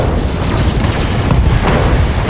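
Mech blowing up in the BattleTech video game, a loud sustained rumbling boom with layered crackling blasts and debris noise filling the whole stretch.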